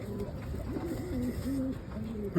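Soft, low homing pigeon coos repeat in a steady rhythmic pattern, close and gentle, over faint background hum and a murmur of voices.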